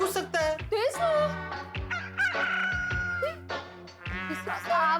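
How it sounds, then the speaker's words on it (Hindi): A rooster loose inside a house crows and clucks in a TV comedy scene. It gives repeated loud, close squawking calls, mixed with voices talking. "लगता है मुर्गा घर में घुस गया है।"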